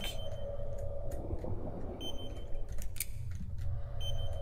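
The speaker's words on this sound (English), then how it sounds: "Still beeping, David." Repeated high electronic beeps of a warning alarm sound in the underwater horror video game Abyss of Neptune, recurring over a steady low rumbling ambience.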